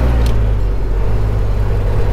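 Magirus-Deutz diesel truck, the Petromax "Dieselhexe", droning loudly and steadily as it drops from fifth to fourth gear, a deep continuous engine rumble with no talk.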